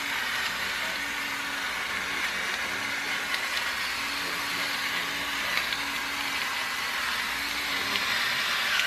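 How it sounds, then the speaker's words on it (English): An automatic blender running while quiche filling is made, a steady, fairly faint whirring motor hum holding evenly the whole time with no voices. "I love this automatic blender."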